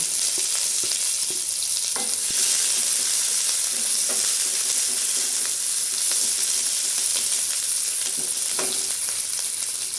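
Onions frying in a pan of popping mustard seeds for a butter bean and potato milk curry, a steady loud sizzle with occasional stirring scrapes throughout.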